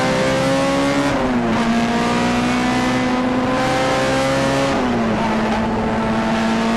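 Tin-top race cars at a Donington Park night race roar loudly past the start-finish line, with a strong sustained engine drone shifting pitch as they go through gears and close by.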